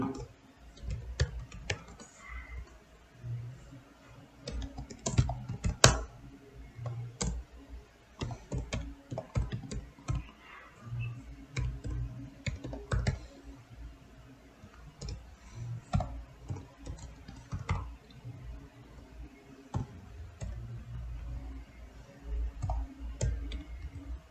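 Code is typed on a computer keyboard, irregular bursts of quiet clicking keystrokes with short pauses, close by and fairly soft throughout.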